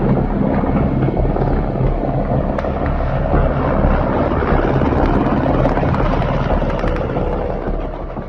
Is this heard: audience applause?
no